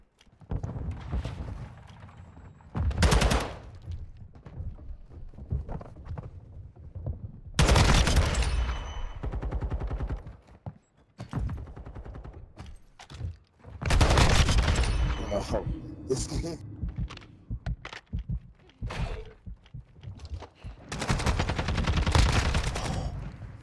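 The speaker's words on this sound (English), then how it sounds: "he pulls out a sniper to kill me." Bursts of gunfire from an online match of Call of Duty Modern Warfare II, including a sniper shot, come in several loud separate volleys a few seconds apart with quieter game sounds between them.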